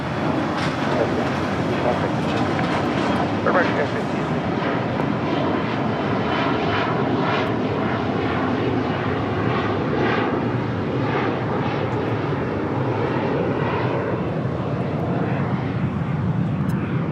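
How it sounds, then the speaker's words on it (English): A Lufthansa Airbus A350 touches down at Los Angeles International Airport, a loud, steady jet roar with broadband rumble sustained throughout, heard outdoors close by with no talk over it. "Lufthansa A350 just touching down here on the south side"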